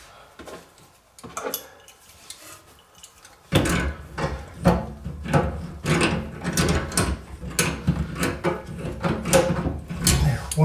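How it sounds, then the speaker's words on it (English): A back nut is threaded and tightened onto a new angle stop valve under a toilet or sink: quiet fiddling first, then a run of close, sharp metallic clicks and clanks from a wrench and fitting. "I'm going to point this stop down, and then I'm going to screw on that back nut."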